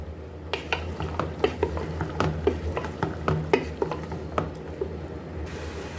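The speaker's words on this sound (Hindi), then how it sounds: "अब यहाँ पर हमने फलियाँ ले ली हैं, वो इसमें हम ऐड कर लेंगे। और इसको हम मिक्स कर लेंगे।" Green beans being stirred into spiced fried mince for keema aloo phaliyan, a spoon scraping the pan in repeated strokes over a steady sizzle, close and fairly loud with no talk.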